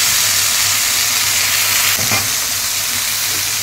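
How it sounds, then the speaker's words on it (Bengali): Pointed gourd (potol) frying in hot oil in a pan, a loud dense continuous sizzle with a brief stirring scrape partway through. "এখন উঠিয়ে আবার এই বাকি পটলটাও ভেজে নিব"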